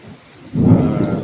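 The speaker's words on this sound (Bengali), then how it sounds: "যেরকম বৃষ্টি মেঘও সেরকম ডাকছে" Heavy evening rain with thunder: rain patters softly, then a deep rumble swells abruptly and rolls on loudly to the end.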